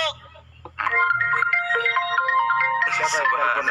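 A phone ringtone plays a bright melodic electronic tune of repeated tones, loud and close, starting abruptly after a quieter moment with faint background sound.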